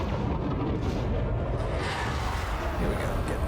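A plasma accelerator fires during a space combat game with FDL and Chieftain ships, producing a dense, continuous roaring blast that stays loud and steady throughout.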